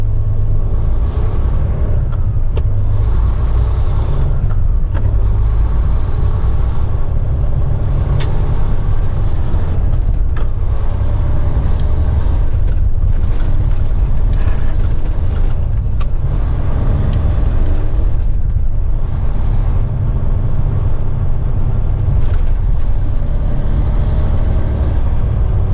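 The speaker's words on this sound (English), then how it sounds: "This is the power of a 13-liter Mack" A Mack truck with a 13-liter engine accelerates with a loud, continuous low rumble heard from inside the cab, the engine drone steady throughout with faint road and cabin noises on top.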